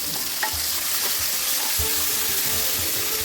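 Chopped small tomatoes drop into wilted onions frying in a pan for an Eid chicken curry, a steady close sizzle with stirring scrapes and a few soft clatters, no voices.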